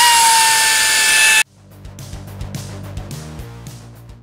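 Power tool driving clutch bolts during a 574 clutch replacement, a loud steady whine for over a second that cuts off abruptly, followed by quieter clattering and mechanical knocks.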